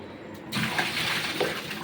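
Water gushes out of a newly bought home air cooler, a sudden loud hissing, splashing rush that starts after a brief quiet moment and runs on steadily.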